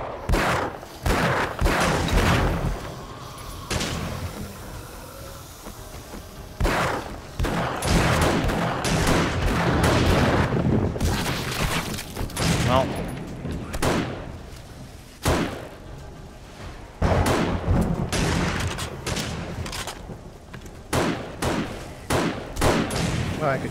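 Gunfire in the video game 7 Days To Die, Wild West Mod, as a player shoots it out with cops: loud, repeated bursts of shots and sharp bangs separated by brief lulls.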